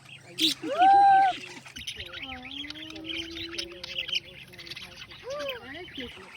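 Pet birds at an exotic animal exhibit squawk and chirp up close in short rising and falling calls, one loud squawk near the start and a long whistled note after it, with people talking nearby.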